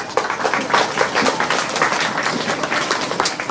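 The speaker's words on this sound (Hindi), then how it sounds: "जोरदार तालियां" An audience at a retirement felicitation ceremony claps loudly and continuously, a dense even wash of applause from many hands in an indoor hall, with no talking.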